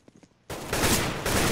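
Counter-Strike: Global Offensive gunfire bursts in suddenly after a few soft taps, a loud, dense roar of shots that continues to the end.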